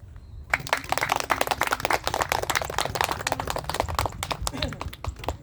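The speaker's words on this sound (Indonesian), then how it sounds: "dilepas ya kita tepuk tangan semuanya" A group of mourners at a funeral ceremony claps together in a steady, dense burst of handclaps that starts abruptly and continues for several seconds, close and lively, with voices talking underneath.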